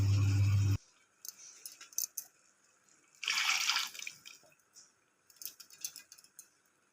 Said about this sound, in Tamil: கொஞ்சம் தண்ணி ஊற்றி அரிசி ஊற்றிக்கலாங்க.